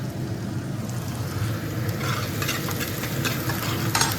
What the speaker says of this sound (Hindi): मैंने घेर दिया हींग, जीरा और प्याज भून लेती हूँ, और फिर घेर दूँगी टमाटर